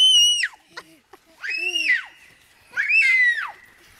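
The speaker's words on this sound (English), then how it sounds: "She can scream." A young girl screams on a backyard trampoline in three long, shrill, piercing bursts, close and loud, separated by short pauses with faint thumps between them.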